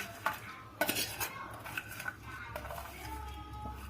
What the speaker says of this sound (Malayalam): നമുക്ക് ആദ്യത്തെ പോലെ തന്നെ നമുക്ക് കിസ്മിസ് ഇട്ട് കൊടുക്കാം.